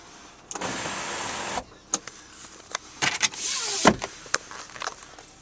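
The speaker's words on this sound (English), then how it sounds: "Your sunroof overhead. Operates nice and smooth." Power sunroof motor on a 2010 Volvo V70 3.2 whirs in short bursts, with soft clicks and clunks as the glass moves and stops, close and fairly quiet inside the cabin.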